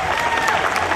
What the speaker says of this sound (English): I'd like for you all to give yourselves a round of applause.